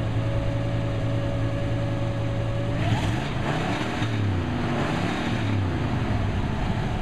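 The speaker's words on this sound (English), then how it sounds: "Can you give it a little rev" A 1957 car engine with a two-speed Powerglide automatic idles steadily, then revs up sharply and settles into a rough, throbbing rumble, loud and close.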